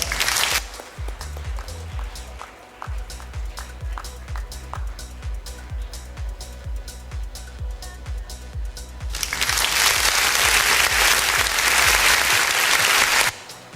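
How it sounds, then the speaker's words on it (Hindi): Loud, sustained applause from an audience at a Diwali celebration award ceremony honoring a top science student, with rhythmic claps at first that swell into a dense, louder burst toward the end. "बहुत जोरदार तालियां हो जाए।"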